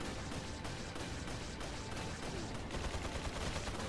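Gunfire in the video game Resident Evil 4 (Classic, Professional mode) during a fight against a rocket-launcher enemy, a dense, continuous barrage of loud shots and explosions with no clear gaps and no talk.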